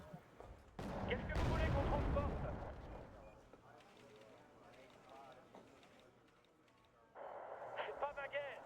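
Mortar artillery in a video game thumps out a loud, heavy burst of booms and rumble, followed by quieter scattered impacts. Players talk over the action.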